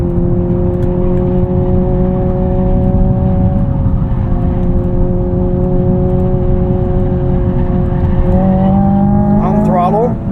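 A 2025 Hyundai Ioniq 5N electric car being driven, heard from inside as a steady loud synthetic engine drone with a constant whirring tone, rising sharply in pitch near the end as it accelerates.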